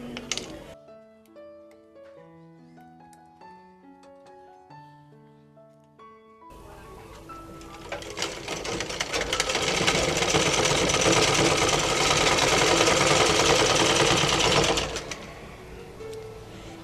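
Sewing machine running in a steady, loud mechanical whir as it stitches a fabric strip for a zipper collar, starting after a stretch of quiet tonal notes and holding continuously before cutting off.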